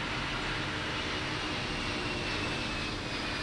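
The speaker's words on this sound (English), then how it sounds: "Listen to those engines." Airbus A330 airliner engines roaring during a takeoff roll in the X-Plane 11 flight simulator, a steady, loud, continuous broadband rumble and whine with no break, heard alone.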